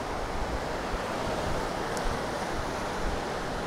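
Steady ocean surf washes in at Godrevy, Cornwall, in the evening as a continuous broadband roar with wind noise on the microphone and no voices.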